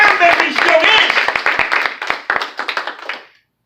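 A church congregation claps during a Spanish-language service, with sharp, uneven hand claps ringing out under a loud voice and gradually thinning and fading to silence.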